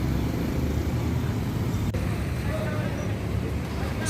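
Bus rumbling along a road in Pondok Pinang on an afternoon, a loud, steady engine and road noise close by with general traffic around.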